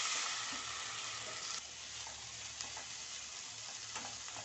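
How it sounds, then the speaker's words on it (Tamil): Raw banana pieces stir-fry in oil with softened onion and green chillies, a dense continuous sizzle heard up close, with occasional soft scrapes of stirring. "ஒரு 2 நிமிஷம் எண்ணெயிலே அப்படியே இந்த வாழைக்காயை சேர்த்து வதக்கிடுவோம்."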